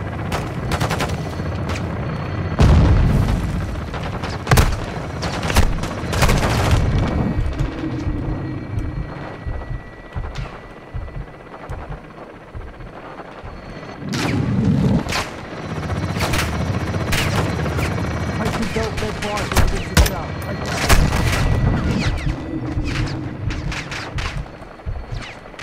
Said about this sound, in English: nereden vuruyorlar bu kadar ya?